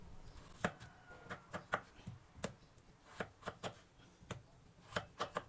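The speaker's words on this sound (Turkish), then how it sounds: "Patateslerimizi şu şekilde doğrayalım." Repeated knife chops through potatoes on a cutting board, sharp close knocks in an uneven rhythm with brief pauses, no talking.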